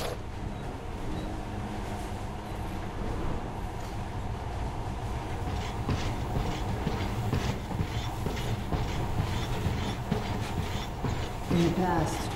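A monorail train in the video game Metro: Last Light runs with a steady rumbling, rattling drone that builds slightly toward the end, while a voice talks over it.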